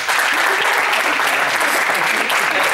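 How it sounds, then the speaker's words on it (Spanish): A classroom of students applauds together in a loud, dense, continuous burst of clapping that holds steady from start to finish. "aplauso para nosotros"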